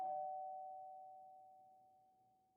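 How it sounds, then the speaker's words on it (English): A doorbell chimes once with a clear, sustained tone that rings on and slowly fades away into quiet, heard alone without any voices. "our negotiator fixes her hair and rings the doorbell"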